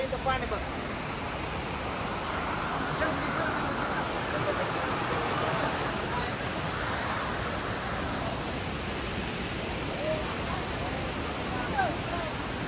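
Waterfall near a cave, a dense continuous roar of falling water, loud and unbroken, with people talking faintly beneath it.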